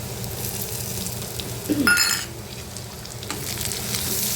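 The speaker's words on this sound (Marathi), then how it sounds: "टोमॅटोसुद्धा परतून घेऊया" Tomatoes frying with onions and dried karandi shrimp in a pan, a steady close sizzle with a brief stir and clink of a spoon against the pan partway through.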